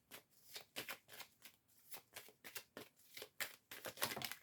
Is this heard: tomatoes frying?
no